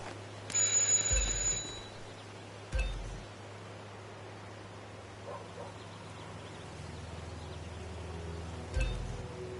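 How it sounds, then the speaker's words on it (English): Doorbell chime in the video game Hitman 2, a bright ringing tone around one second long near the start, followed by low thuds and quiet game ambience with no talk. "Just ring the doorbell."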